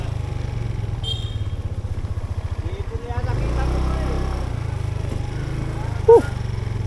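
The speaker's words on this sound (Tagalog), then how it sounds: "Solid yung motor mo dito." A motorcycle on a Sunday ride: steady low engine drone with a pulsing throb that changes pitch partway through, heard close from the rider's position, with a brief sharp clatter near the end.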